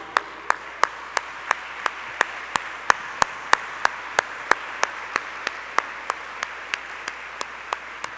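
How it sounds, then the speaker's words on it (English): Sparse, evenly spaced claps ring out one after another against a steady hiss of room noise at an annual meeting and awards event, sounding like a slow, thin round of applause. "I'd like them all to stand for some applause for the amazing work"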